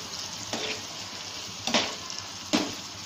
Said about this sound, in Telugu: అందులో కారం, సరిపోయేంత కారం, ఉప్పు, వేసుకొని కలుపుకోవాలి